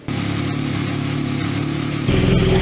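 A car engine, reportedly a newly bought BMW of about 1200, runs steadily at a close distance with a continuous low drone. It swells louder near the end as though revved.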